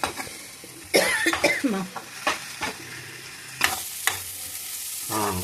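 Mixed vegetables frying in a pan for upma, with a steady sizzle and bursts of stirring scrapes at close range, plus a cough partway through.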